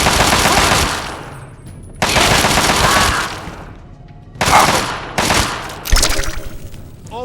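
Gunfire in Fallout 3 crashes out in loud, close bursts of rapid automatic shots, four or five volleys separated by short gaps, with no talk over them.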